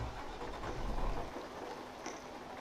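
Steady rain hiss in Euro Truck Simulator 2 with a low rumble underneath, fairly quiet and continuous, with a brief faint high tone near the end.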